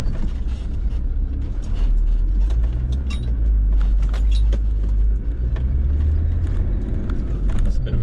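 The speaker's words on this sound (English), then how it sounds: "I'm just going for a quick test drive just to see how these springs are compared" Land Rover Discovery 2 converted from air suspension to coil springs, driven on a test run: a loud, steady low engine and road rumble with occasional mechanical rattles and clunks, with no one speaking.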